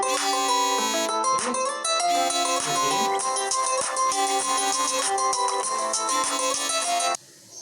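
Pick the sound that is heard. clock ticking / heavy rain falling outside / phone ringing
phone ringing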